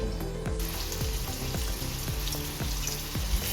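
Onions fry with ground white masala in a pan for a Malabar spinach paneer butter masala, a steady close sizzle broken by periodic stirring scrapes.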